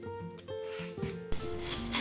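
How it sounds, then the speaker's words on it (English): Lotus root being peeled produces a short run of dry, rasping scrapes, steady and close, with a few sharper strokes partway through and no voices. "Peel the lotus root first."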